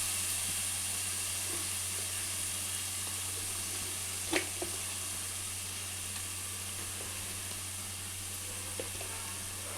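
Chili paste fries in oil for a tangy fish curry with a faint, steady sizzling hiss and a few soft taps, no voices.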